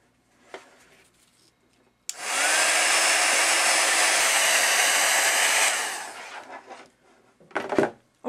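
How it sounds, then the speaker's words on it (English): A heat embossing tool blasts hot air to set white embossing powder on paper: a loud, steady blowing roar that starts abruptly and holds for about three and a half seconds, with quiet handling noises before and after. "And you're going to heat set it."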